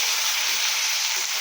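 A spice paste of chilli and coriander powder fries steadily in a pan, giving a loud, continuous close-up sizzle with no pauses.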